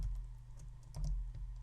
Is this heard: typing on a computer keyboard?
yes